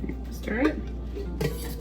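A spoon stirring milk in a pot on a farm, brief close scrapes and clinks of metal against the pot, with a voice speaking briefly over it.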